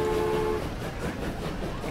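Train in the video game Transport Fever, a short burst of rolling rail rumble with a brief horn-like tone at the start, loud and close, no talking.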